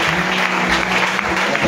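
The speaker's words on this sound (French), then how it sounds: "J'aimerais que nous puissions faire des acclamations prophétiques." A church congregation breaks into dense, steady applause and acclamations, a loud, close crowd clatter that fills the whole moment.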